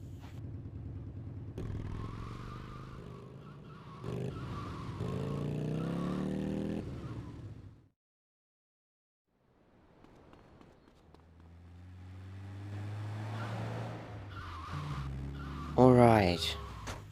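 A motorcycle rides along the freeway in the video game GTA Vice City Stories: its engine revs and whines, cuts to near silence, then builds again and ends in a brief sharp tire squeal, with someone talking over parts.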